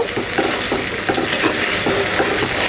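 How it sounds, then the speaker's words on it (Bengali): Roast chicken spice masala stir-fried in oil in a pan, a steady loud sizzle with repeated scraping stirs of the spatula, close up and continuous without talk. "রোস্টের মশলাটা যত বেশি কষাবে বন্ধুরা ততই ভালো হবে খেতে"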